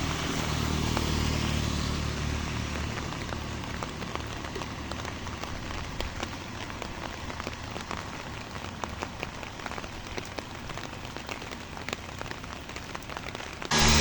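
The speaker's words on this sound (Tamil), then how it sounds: "இவ்வளோ மழை பெய்யுது." Heavy summer rain pours down beside the Karaveddy divisional secretariat, a dense, steady roar of drops pattering on surfaces that fills the whole stretch without a pause, with a faint passing vehicle underneath.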